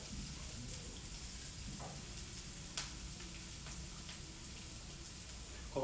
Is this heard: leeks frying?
yes